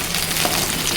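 Green chillies fry with onions in a curry pan as they are stirred, a dense, loud, continuous sizzle over a very short moment.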